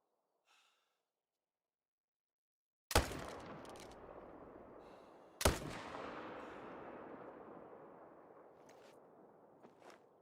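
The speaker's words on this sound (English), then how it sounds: "Apparently I'm shooting trees now" Two sharp rifle gunshots from the hunting game theHunter: Call of the Wild crack out a few seconds apart, each followed by a long fading echo, with faint breaths between.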